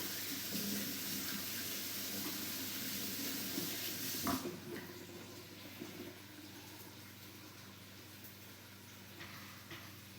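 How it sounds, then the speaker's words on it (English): Tap water running into a sink while hands are washed, a loud steady hiss and splash that cuts off abruptly partway through, leaving quieter room sounds and faint clatter. "Wash my hands."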